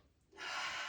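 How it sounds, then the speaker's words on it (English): A single deep, audible inhalation during a guided breathing exercise, close and breathy, rising sharply and holding steady to the end. "Inhale, exhale. Inhale, exhale."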